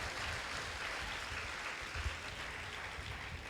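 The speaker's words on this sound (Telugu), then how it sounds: "అందరు చప్పట్లు కొట్టి ప్రభుని స్తుతిద్దాం." A church congregation applauds together, a sustained mass of clapping heard from within a large gathering at moderate loudness.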